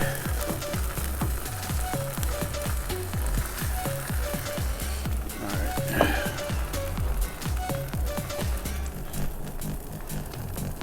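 Birria taco meat and cheese sizzling on a Blackstone flat top grill, a steady close crackle and hiss with rhythmic scraping taps from a spatula, loud and continuous with no talking.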